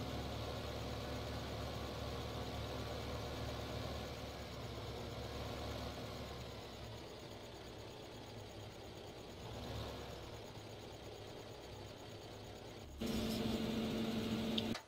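A tractor engine in Farming Simulator 15 idles with a steady low mechanical drone, fairly quiet, then grows louder near the end as a whining tone rises above it.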